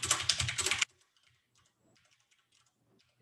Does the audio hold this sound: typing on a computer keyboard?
yes